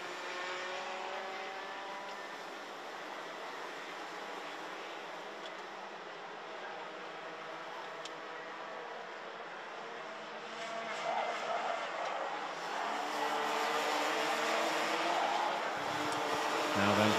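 Cars race on a circuit in a senior race heat, with a steady distant engine drone that swells as cars approach near the end, all under continuous commentary.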